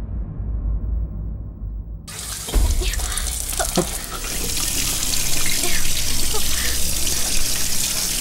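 Water running from a tap, a steady broadband rush that starts abruptly after a muffled low hum and continues loudly to the end, close by, with faint knocks and possible voices underneath.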